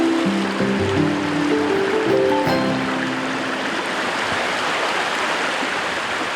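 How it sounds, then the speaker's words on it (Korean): A stream flows through a deep, forested Jeju valley among rock cliffs, a steady broadband rush of water with some low tonal sounds in the first seconds, then continuous flowing water. "물소리를 따라 걸음을 옮기는데요."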